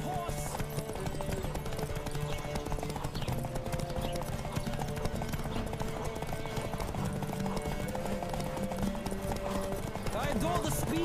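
Horse hooves clip-clopping at a gallop in The Witcher 3: Wild Hunt, a steady rhythmic beat with an occasional whinny, heard under game music and ambient sound throughout.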